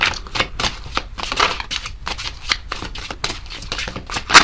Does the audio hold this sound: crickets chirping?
no